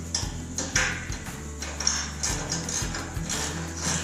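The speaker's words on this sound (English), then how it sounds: "Very quickly, do this with a ratchet." A hand ratchet works on bolts of a chassis jig, giving repeated close clicking and ratcheting strokes in an uneven rhythm with metallic mechanical clatter.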